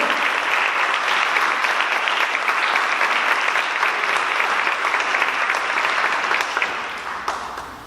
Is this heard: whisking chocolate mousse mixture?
no